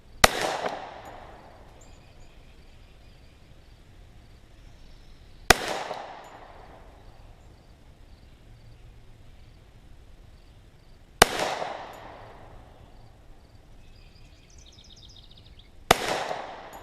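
Four sharp Glock 41 pistol shots fired at a 30-yard target, each a loud crack with a decaying ring, spaced several seconds apart on an otherwise quiet outdoor range.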